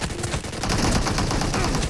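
AKM assault rifle fire in PUBG Mobile team deathmatch: sustained rapid automatic bursts, loud and close, running steadily through the whole stretch with no talk.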